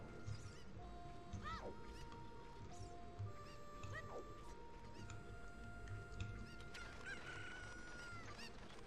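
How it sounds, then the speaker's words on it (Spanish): Cucco chickens in Zelda: Ocarina of Time cluck and squawk in a few rising, sliding calls over steady game music and ambience, moderately loud and without speech. "Pero agarra al bendito cuco."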